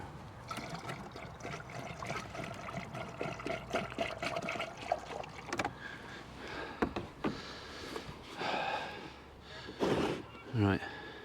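Water trickles and gurgles out of an overflow pipe with bubbling bursts, close and uneven, while a person talks over it intermittently.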